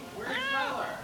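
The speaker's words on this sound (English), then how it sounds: "I'm playing with a cat." A cat gives one clear, drawn-out meow, close and fairly loud, rising then falling in pitch.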